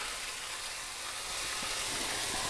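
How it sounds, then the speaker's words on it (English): Food frying in a hot pan, a steady close hiss of sizzling oil that grows slightly louder toward the end, with faint popping. "you'll get that nice sizzle on each side."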